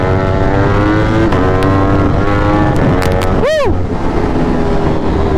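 A motorcycle cruises on a road in cold weather, its engine droning steadily with shifting pitch under heavy wind rush; a passing vehicle sweeps by midway and the rider gives a short shout.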